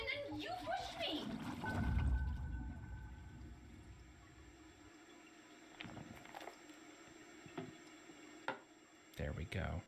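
A toilet-flushing sound effect in an edited soundtrack gives a rushing, gurgling swirl of water in the first few seconds, then fades under a quiet ambience with occasional ticks and someone speaking over it.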